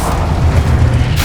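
A Confringo fire spell explodes in a Hogwarts video game, a loud, sustained rumbling boom with dense low-end energy that rolls on without a break and ends in a brief bright burst.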